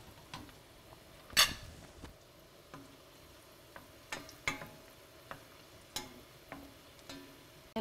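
Garlic frying in oil for spaghetti aglio e olio, a soft background sizzle broken by scattered clicks and taps of a utensil against the pan, one sharper clack near the start, no talking.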